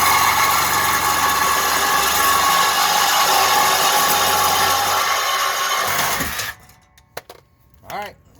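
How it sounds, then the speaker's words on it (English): The stock exhaust system on a Jeep Gladiator is cut with a power tool, giving a loud, steady, close-up cutting whine for about six seconds that stops abruptly and is followed by a few scattered clanks and quiet handling sounds. "go ahead and cut the exhaust system right here"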